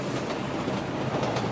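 A New York subway train, from the world's first metro system with four-track local and express service, rolls along its rails with a steady, loud, close rumble and rattle that never lets up.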